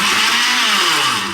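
A countertop blender runs at full power, its loud, steady motor roar filling the moment without a break and easing only slightly at the very end.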